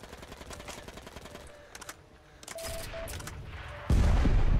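Gunfire in Heroes & Generals: bursts of rapid automatic fire crackle through the first seconds, ease off briefly, then resume more densely, ending in a loud sustained barrage close by.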